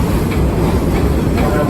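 Serengeti Express theme park train at Busch Gardens Tampa rumbles steadily as it rolls, a loud continuous low clatter heard from on board with faint voices.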